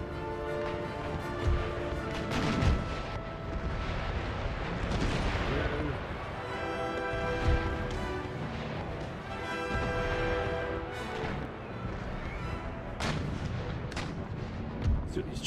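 Naval cannons boom during a sea battle in Empire Total War, with scattered heavy shots over a busy rumbling battle din and a voice talking in places.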